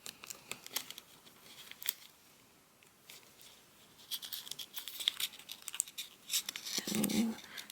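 Paper being folded and creased while making an origami zebra, close crinkling and rustling in scattered bursts, busier toward the end, no voices.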